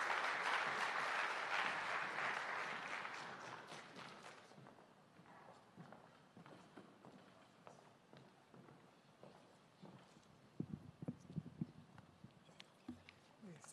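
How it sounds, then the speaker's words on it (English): Audience applause at an AI lab signing ceremony in Jamaica, a dense broadband wash of clapping for about four seconds that thins and fades, followed by scattered footsteps and light knocks in a quieter room. "Give her a round of applause as she comes"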